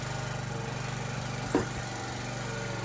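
A TaoTao 50cc scooter engine idles steadily and close by, a constant low droning hum with a brief louder blip partway through, running alone without speech.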